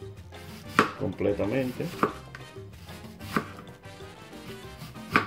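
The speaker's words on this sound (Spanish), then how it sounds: "pelando esta cebolla, la vamos a cortar en rodajas" A knife slices a peeled red onion into thin rings on a board for Dominican onion escabeche. Close, crisp chopping strikes come in an irregular series, with a few light clinks between them.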